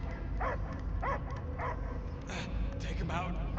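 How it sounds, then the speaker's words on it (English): A dog barks and yips in several short, repeated bursts, some whimpery, over a low rumbling game soundtrack. "I hear only barking."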